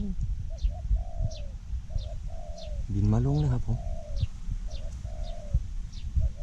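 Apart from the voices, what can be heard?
spotted dove cooing, decoy dove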